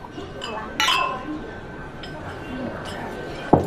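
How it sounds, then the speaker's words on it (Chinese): Glasses clink together in a toast at a group meal, a couple of sharp bright chinks close by among people calling out and talking. "来来来，干杯！ 干杯！"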